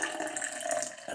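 Cold beer pours steadily into a glass for a michelada, a continuous close liquid splash and fizz lasting about a second with no voices.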